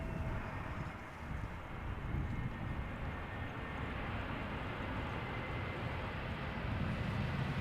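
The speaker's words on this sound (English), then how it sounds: "EasyJet arriving from Prague, A320 Neo" An EasyJet Airbus A320neo airliner arriving from Prague makes a steady, faint broadband roar, distant and continuous throughout, with no voices.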